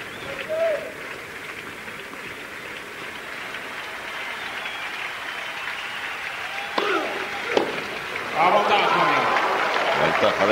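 Ovation from the crowd on the center court at Roland Garros 2003 swells in the background, a broad rumble of clapping and cheering that rises toward the end. Commentary talk sits over it throughout, with a few sharp bumps in the mix.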